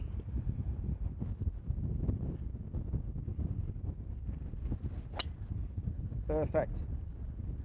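Steady wind buffets the microphone across an exposed Irish island golf course, a continuous low rumble running the whole time while people talk over it.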